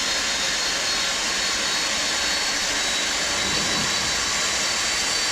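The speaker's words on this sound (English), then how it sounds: "So a good start on engine number 4." Simulated Boeing 747-200 jet engine spooling up during engine start in the X-Plane 12 flight simulator, a loud steady broadband roar with a thin high whine running through it, unbroken and without speech.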